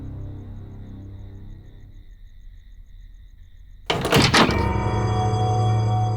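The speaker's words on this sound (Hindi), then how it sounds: "दरवाजा बंद कर दो।" A door is shut with one heavy thud partway through a scene from a Hindi CID crime drama. Before it there is a quiet, steady musical hum, and after it a louder sustained tone carries on, with no talking.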